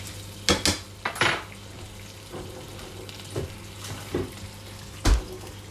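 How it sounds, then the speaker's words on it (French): Scampi carcasses are crushed in olive oil in a pan: several sharp metallic knocks and scrapes of a utensil against the pan, spaced irregularly over a soft, continuous sizzle. "Écraser un peu les carcasses"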